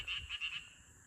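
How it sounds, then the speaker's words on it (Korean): Frogs croak at night beside a pool lined with pine trees, in the hills around Chungju and Jecheon; several pulsing, rhythmic calls sound fairly near and clear, then fade to a soft background chorus. "개굴 개굴 엄청네 진짜 예쁘다"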